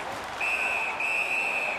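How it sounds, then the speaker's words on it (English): A referee's whistle stopping play in the hockey video game NHL 19: a shrill sustained blast with a brief break, heard over steady arena crowd noise. "And freezes play for the whistle."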